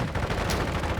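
Rapid, continuous gunfire from a Call of Duty Modern Warfare II match, a dense burst of shots filling the whole second at steady loudness with no talk.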